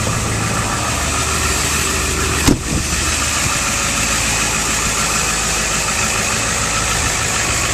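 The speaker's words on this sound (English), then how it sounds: "The 2003 Ford F450 turbo diesel crew cab." A 2003 Ford F450 turbo diesel crew cab idling, a steady, close diesel rumble with one sharp click or knock partway through, running on without talk.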